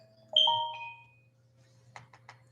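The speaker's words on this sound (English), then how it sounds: "front doorbell thing, and it, you know, it send notifications to our phone" A smart doorbell alert chimes from a phone: a bright two-tone chime rings out clearly and fades over about a second, followed by a quick series of three short beeps, with a low steady hum underneath.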